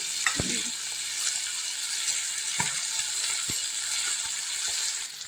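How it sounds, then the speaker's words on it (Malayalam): Dried fish fries in a pan with a bright, steady sizzle close by. A few sharp taps of a utensil ring out, and no one speaks. "അപ്പോൾ ഇതേ ഉണക്ക മീനൊക്കെ വറുക്കാനിട്ട്"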